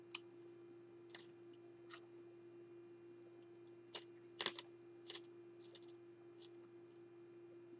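Typing on a computer keyboard comes through as sparse, scattered key clicks, faint and irregular, over a constant low electrical hum, with no voices.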